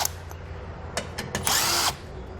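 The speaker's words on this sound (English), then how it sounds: "There's 7 bolts on each side we're going to need to remove with a 10mm socket." Power tool spinning off the under-shield bolts with a 10mm socket on a 2016 vehicle during a Roadmaster base plate install, heard as a few short bursts followed by one longer whir, close and fairly loud.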